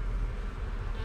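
A dense, close buzzing of many honeybees on a hive frame fills the moment, steady and continuous without pause.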